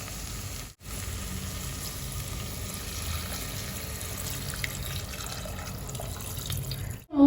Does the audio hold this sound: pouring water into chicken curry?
yes